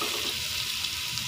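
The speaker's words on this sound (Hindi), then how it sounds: "चलिए हम इसे भूनने देते हैं।" Chicken curry with yogurt and onion frying in oil, a constant close hiss and sizzle with light crackle throughout, no voices.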